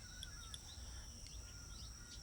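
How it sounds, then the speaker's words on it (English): Faint, continuous outdoor chirping of small birds, with thin high calls and trills layered over a steady low background hum. "Beautiful sounds of the birds chirping away."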